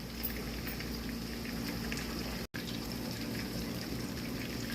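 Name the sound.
fish frying in oil in a pan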